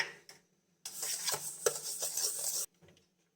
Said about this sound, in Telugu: 1/4 కప్ ఆయిల్. ఇప్పుడు ఈ రెండింటిని బాగా మిక్స్ చేసుకుందాం.